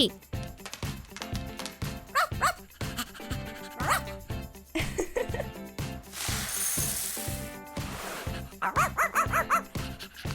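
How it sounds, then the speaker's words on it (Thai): A dog barks and yips at feeding time in a rhythmic series of short, sharp calls, close and fairly loud, mixed with clinking sounds and a brief burst of hiss. "เจ้าสุนัขกินอาหารหมดจานทันที"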